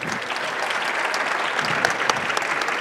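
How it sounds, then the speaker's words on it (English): An audience applauds steadily at a ceremony just before a signing, a dense, even wash of clapping that holds for a few seconds with no talk over it. "if I may invite a round of applause"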